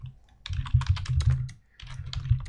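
Rapid, close keystrokes on a computer keyboard as CSS is typed, in two busy bursts separated by a short pause.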